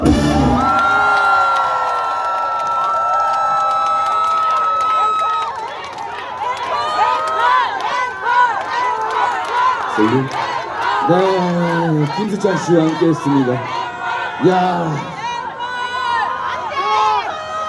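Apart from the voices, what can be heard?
concert crowd cheering and shouting for an encore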